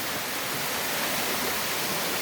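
Mountain valley stream water flowing at Gotjeunjae pass on Chiaksan, a steady broadband rushing and hissing that stays even and unbroken throughout, with no voices.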